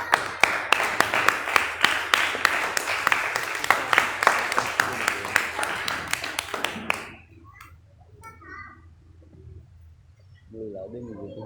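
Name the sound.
applause at a karate belt promotion ceremony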